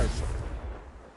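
The Confringo explosion spell in the video game Hogwarts Legacy goes off with a single heavy, booming blast that rumbles and fades over about a second.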